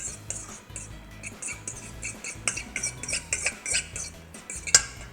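A utensil mixes mayo into cauliflower frittata ingredients in a bowl, giving a run of quick, light clinks and scrapes in an irregular rhythm, close and fairly quiet, with no talking.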